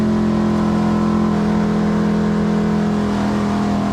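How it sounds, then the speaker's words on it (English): A race car engine at Darlington Raceway held hard against the rev limiter, a loud, continuous buzzing drone with a rapid stuttering pulse as the ignition cuts in and out, close and unbroken. "I'm against the rev limiter"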